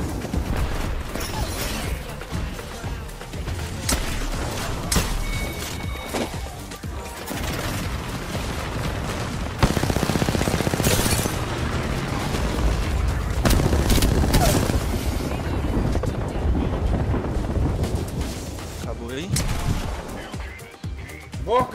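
Dense gunfire from Apex Legends, with Fuse in the fight, crackles in rapid bursts and booming explosions through the whole stretch, while players talk over it now and then.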